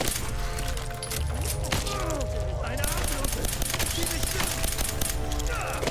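Gunfire in Fallout 4 Nuka World, rapid overlapping shots and cracks in a dense battle mix with other game sounds throughout.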